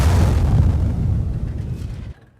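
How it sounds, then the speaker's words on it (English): A tank's ammo rack explodes in a tank video game, a loud, heavy rumbling blast sustained for about two seconds before cutting off abruptly into quiet. "Oh, and we ammo racked him. Oh, he went up like a firework."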